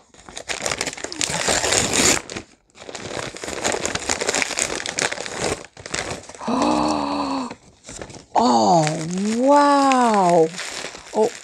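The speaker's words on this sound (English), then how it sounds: "Let's open it. Crinkling." Industrial-strength tape and packaging crinkle and tear as a taped package with bubble wrap inside is opened, with loud bursts of rustling and ripping broken by pauses and strained squeaky sounds.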